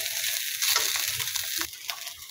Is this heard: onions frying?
yes